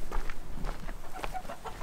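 Chickens cluck in a farm animal area near a hut, a steady series of short clucks over a noisy low background, fairly close, with no voices.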